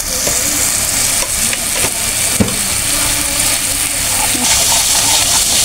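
Masala spice paste fries in a pan with a loud, continuous close sizzle, broken by scraping stirs and occasional soft knocks of the spoon against the pan.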